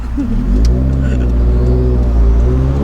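A tuned 2016 Subaru WRX pulls hard under full throttle on a Protune day, its engine roaring loud and steady from inside the cabin with a rising, strongly harmonic drone and faint voices underneath.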